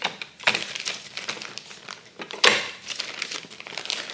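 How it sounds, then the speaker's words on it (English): Close, crackly crinkling of a plastic bag used to press a masa dough ball into a tortilla, continuous with a sharper rustle partway through. "I've just ripped open a plastic bag here"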